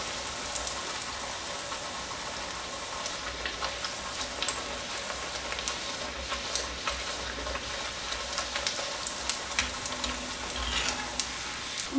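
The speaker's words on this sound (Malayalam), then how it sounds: "രണ്ട് സൈഡ് ഒരു ലൈറ്റ് ഗോൾഡൻ കളറാകുന്നത് വരെ തിരിച്ചും മറിച്ചുമൊക്കെ ഇട്ടതൊന്ന് ഫ്രൈ ആക്കിയെടുക്കണം" Pathiri flatbread fries in oil over a medium flame, giving a dense, rain-like crackling hiss that stays steady throughout, with small pops and no talking.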